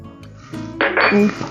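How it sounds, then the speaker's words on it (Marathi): Ice cubes clink and rattle into a bowl of guava pieces and sugar in a quick cluster of bright hard knocks, close and fairly loud, lasting about a second. "ice cube"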